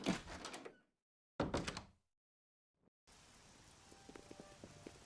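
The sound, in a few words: rain in a video game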